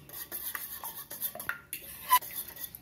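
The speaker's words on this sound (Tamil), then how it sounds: "வெள்ளைக்கரு மஞ்சக்கரு ரெண்டும் நல்லா கலக்கிற மாதிரி நல்லா அடித்து வேக வைக்கணும்" Eggs being beaten in a bowl to mix whites and yolks, producing quick, uneven clicking and scraping strokes of a utensil against the bowl, close and without speech.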